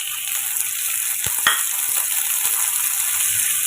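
Tomatoes sautéing in a pan with onion and dried red chillies for a tomato chutney, a steady, close sizzle and crackle with a few sharp stirring clicks of a utensil against the pan.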